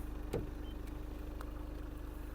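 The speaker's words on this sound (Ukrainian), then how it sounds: "Двигун працює тихенько, на демпфера на холодну не чути." A Volkswagen Passat B8 engine idles cold, low and even, a soft steady pulsing rumble with a few faint clicks over it.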